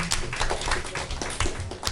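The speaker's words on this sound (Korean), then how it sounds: "오늘의 예배를 받으신 하나님께 영광의 박수 올리십시다" A church youth service congregation applauding, a brief burst of scattered clapping from a modest crowd, fairly close and even throughout.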